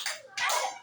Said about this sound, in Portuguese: bate 2 palmas